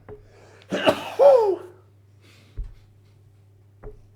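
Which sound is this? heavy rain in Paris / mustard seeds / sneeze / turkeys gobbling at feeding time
sneeze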